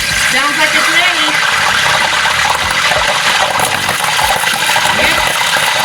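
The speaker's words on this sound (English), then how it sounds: "I'm going to take water in my hand and drop it into the grease." Water flicked by hand into hot frying grease, giving a loud, continuous crackling sizzle and spitting that lasts throughout.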